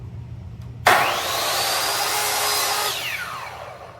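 A power saw starts abruptly and cuts through a wooden pole being trimmed into a 32-inch flat spindle for a shelf, a loud steady whine that holds for about two seconds and then winds down, with no talking.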